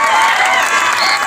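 A crowd at a local T20 cricket tournament's award ceremony claps loudly and continuously, a dense wash of applause with scattered cheers.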